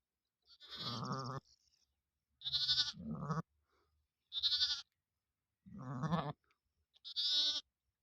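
A ewe bleats five times after lambing, in separate, wavering calls spaced by short silences, close and clear with no other sound around.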